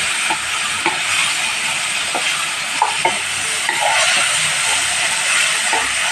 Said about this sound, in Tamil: இஞ்சி வெள்ளைப்பூடு பேஸ்ட் வச்சு இதை நல்லா வதக்கிடுங்க